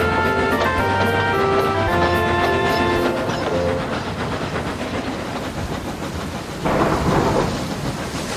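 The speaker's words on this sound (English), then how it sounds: "Then the rain began again, and the wind strengthened." A storm sound effect with heavy steady rain and deep rolling thunder, loud and continuous, with a louder rumble swelling near the end and a brief musical tone at the start.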